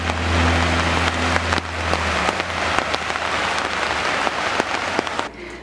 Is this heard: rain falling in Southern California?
yes